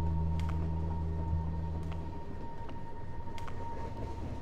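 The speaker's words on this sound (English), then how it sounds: "It's the subway that's mostly just like messing with me, cause there's no subway." Subway train ambience in the horror video game Bunny Man Lost Souls: a low rumbling drone with a faint steady tone and a few soft clicks, moderately quiet and continuous, with no talk.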